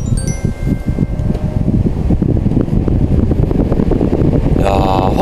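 A Gale rechargeable corded-cordless electric fan runs after being switched on, producing a loud, steady rush of blowing air with buffeting wind noise close to the microphone.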